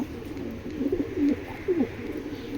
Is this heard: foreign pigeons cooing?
yes